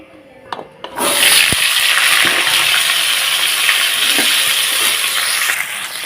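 Drumstick stems and potatoes hit hot oil after a few faint clicks and then fry with a loud, close, continuous hiss that holds steady for about five seconds before easing slightly.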